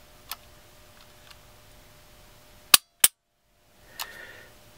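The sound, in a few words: dry-fire trigger pulls of CZ P10C and Walther PPQ pistols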